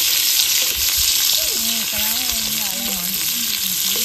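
Dried meat pieces fry in a pan with a loud, dense, close sizzle that runs throughout, while a voice talks faintly under the frying partway through.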